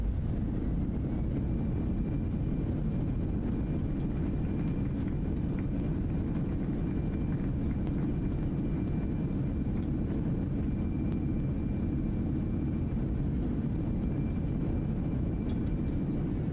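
A Fenix A320 in a flight simulator roars in reverse thrust after landing, a steady, loud engine rumble with a faint high whine, unbroken throughout.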